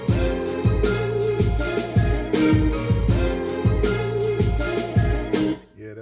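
Hip-hop beat built from plugin-sampled strings and piano, with punchy repeating drums and bass looping in a steady bar pattern, loud and full, no voices, cutting off abruptly near the end.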